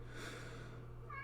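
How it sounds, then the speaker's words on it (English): A cat gives one drawn-out meow at moderate distance, faint under a steady background hum, followed by a brief higher chirping tone. "My associate, who I don't know if you can hear, is meowing really loudly"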